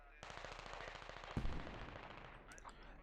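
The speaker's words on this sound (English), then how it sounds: "Mortars coming in the west side of Factory" Rapid gunfire bursts from a Squad battle, with a heavy impact thump partway through as mortar rounds land amid the shooting; a voice talks underneath.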